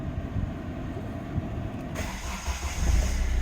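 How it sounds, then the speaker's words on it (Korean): A Kia Pride car engine with about 111,000 km idles steadily from a cold start with a low rumble that grows slightly louder near the end, with no voices. "먼저 엔진 소리하고 에어컨 성능 한번 보여드리겠습니다"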